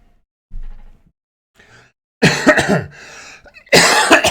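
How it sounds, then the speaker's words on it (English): Several coughs: a soft one early, then two loud, harsh coughing bursts close to the listener, with brief quiet gaps between. "Should I do that again without coughing?"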